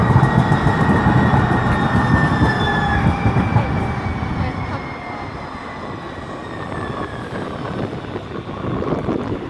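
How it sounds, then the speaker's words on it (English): A two-car Siemens S200 light rail train on the San Francisco Muni line rumbles past nearby, wheels squealing in long sliding tones as it goes, with the rolling noise fading and then swelling again. "there goes the two car new Siemens train"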